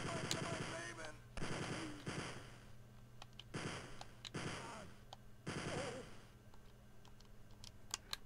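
Gunfire from the big gun in the Game Boy Advance version of Wolfenstein 3D, sounding in several loud sustained bursts with short pauses, followed by scattered single shots.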